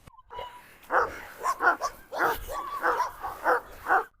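A Cane Corso barks in a quick run of loud, close, sharp barks and yips, about nine bursts in a few seconds.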